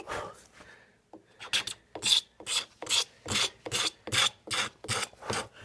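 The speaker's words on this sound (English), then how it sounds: "You come in short little strokes with a razor sharp tool." Razor-sharp tool scraping finish off a wooden gun stock in short, regular strokes, about ten rasping passes in a steady rhythm, close and clear with no talking.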